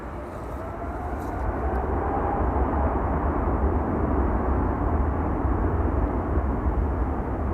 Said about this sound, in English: Embraer 190 arriving from Stuttgart up next.